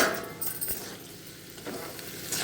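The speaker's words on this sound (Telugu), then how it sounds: "ఫ్రై అయింది కదా ఆలుగడ్డ" Potatoes fry quietly in a pan for an Indian aloo tomato curry, a soft continuous sizzle with faint stirring clinks, heard close and alone.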